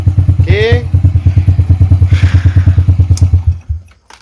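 A Honda EX5 motorcycle engine idling close by with a steady, rapid thumping beat, briefly blipped early on, then cutting out and falling silent at the end.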